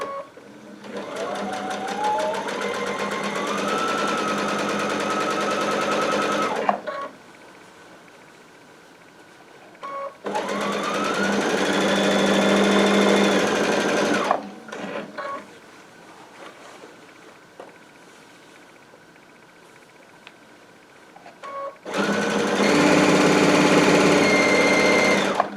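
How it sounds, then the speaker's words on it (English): A Baby Lock Altair sewing machine stitches binding onto a quilt in three long bursts of steady high-speed whirring, close and clear, separated by quiet pauses while the fabric is repositioned. "Just reposition and sew."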